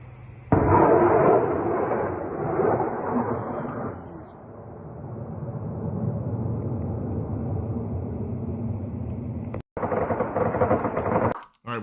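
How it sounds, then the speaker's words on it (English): Russian military gunfire aimed at incoming drones: a dense, loud, continuous rattle of shots that starts abruptly, eases slightly midway, then drops out briefly before resuming, with voices mixed in. "we can see lots of gunfire over here from the Russian military trying to take down these incoming drones"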